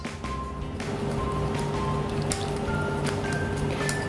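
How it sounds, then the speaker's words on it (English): Solid coconut oil being whisked in a bowl for vegan chocolate ganache, giving a steady, soft, wet squishing and scraping texture that runs close and continuous throughout. "So you're gonna start whisking it."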